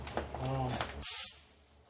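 A paint spray gun set up for automotive primer gives a short, loud, airy hiss of about a quarter second, following a stretch of close speech.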